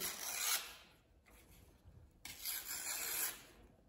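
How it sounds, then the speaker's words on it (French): Paper edges being torn by hand for a ritual, heard as two close, soft ripping strokes separated by a short pause. "on va déchirer les bords pour ce rituel"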